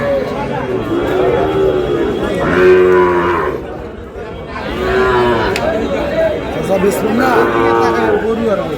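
Cattle, including Shahiwal bulls and calves, moo in long, loud, drawn-out calls at a busy Noakhali livestock market, with crowd chatter and someone talking throughout.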